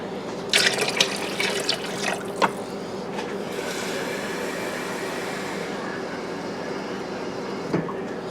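Tap water runs steadily into a measuring cup for homemade chicken noodle soup, a continuous close hiss and splash with a few clinks and knocks early on.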